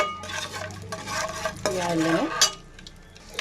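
Cloves, a cinnamon stick and cardamom pods drop into hot oil left over from frying eggs for egg curry, giving a brief clatter and sizzle with a spoon scraping the pan, close and fairly loud.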